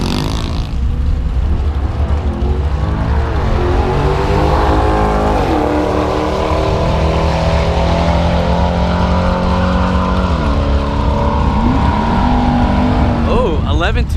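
A C8 Corvette on a drag-racing run roars loudly and continuously, its engine note climbing through several rising sweeps as it shifts up through the gears, with crowd and other track noise underneath.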